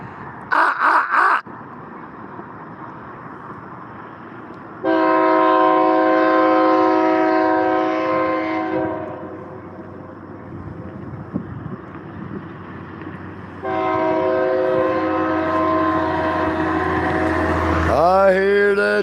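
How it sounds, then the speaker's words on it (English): A train rumbles past nearby while its horn blows two long, loud blasts, with a short clanking burst at the start and a squeal at the end. "I hear the train a-comin', it's rolling round the bend"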